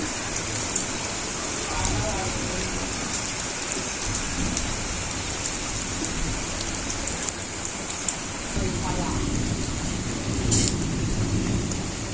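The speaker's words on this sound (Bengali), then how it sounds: "আস্তে আস্তে বৃষ্টিটা কমতেছে" Steady rain gradually easing off patters down across the whole stretch, a constant hiss that shifts slightly in texture partway through, with no voices.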